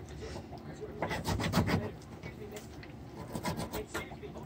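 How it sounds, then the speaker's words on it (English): A sharp knife scrapes and cuts tendons off chicken bone while preparing lollipop chicken drumsticks, a close, continuous rasping rub that swells and fades, with faint voice in the background. "you can see the tendons getting cut. Kind of scrape it off the bone."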